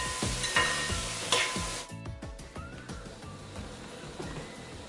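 Onions fry in a pan for a chicken ginger dish, a loud, steady sizzle broken by repeated scraping strokes of stirring.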